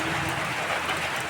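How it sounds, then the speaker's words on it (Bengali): Rain falling steadily outdoors during a storm, a dense, even hiss of drops pattering on surfaces, constant and moderately loud with no voices. "বন্ধুরা দেখুন, বৃষ্টি শুরু হয়ে গেছে।"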